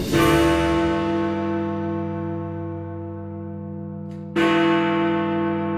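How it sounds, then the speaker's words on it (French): The Big Ben bell in London strikes, a deep resonant bronze tone with a long shimmering hum that decays slowly, then a second loud strike rings out and sustains. "Cet audio est le son du Big Ben."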